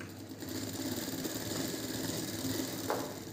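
Sewing machine running a same-colour press stitch on fabric, a soft continuous whirring hum with a faint rhythmic needle patter, quiet and close, one small click near the end.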